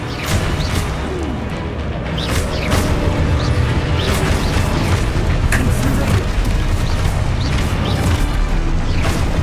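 Expulso explosion spells from Hogwarts Legacy, a string of loud booming blasts and crashes over a dense, continuous rumble of combat effects, without speech.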